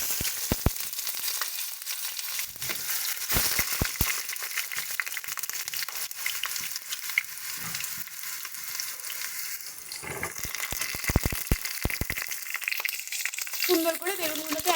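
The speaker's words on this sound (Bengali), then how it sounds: "এবার আমরা এক এক করে বেগুনগুলো ভেজে নিচ্ছি।" Eggplant slices frying in hot oil: a steady close sizzle with occasional sharp clicks of the utensil against the pan.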